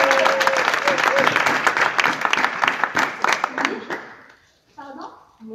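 Audience in a church youth service applauding steadily, a dense clapping crowd that tapers off and fades out near the end, with a few voices and someone speaking faintly underneath.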